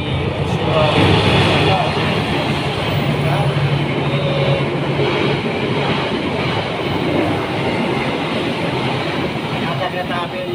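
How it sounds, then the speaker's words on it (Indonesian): A train passes on a railway beside a grave site, a loud, continuous rumble with faint rhythmic clatter of wagons that swells early and holds steady throughout, with some speech mixed in. "Ada kereta api lewat"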